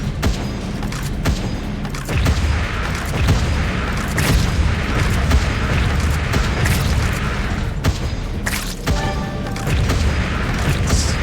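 Bomb thrower weapon in the game Wall World firing off a steady barrage of deep booming explosions and thuds, dense and loud across the whole stretch, with no pause between blasts.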